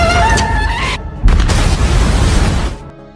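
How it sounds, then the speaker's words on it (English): A grenade-triggered explosion tears through a warehouse: a loud, sustained roar of blast and rumble that fills about a second and a half, then fades out abruptly. "Big John pulled the bag, triggering an explosion within the warehouse"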